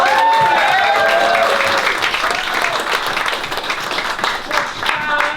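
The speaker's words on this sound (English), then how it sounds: "let's keep clapping for Kristin for coming all the way" Sustained audience applause at a community talk about San Jose Japantown, a loud, steady roar of many hands clapping with a few voices faintly audible beneath.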